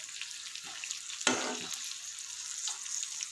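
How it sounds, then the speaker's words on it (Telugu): Pieces of food sizzle steadily in hot oil in a pan. A clear stirring scrape comes as they are turned, then the frying continues close and even, with no talking. "ఇలా తిప్పుకుంటే రెండు వైపులా బాగా కాలుతాయి ఉడికిపోతుంది మంచిగా ఆయిల్లోనే"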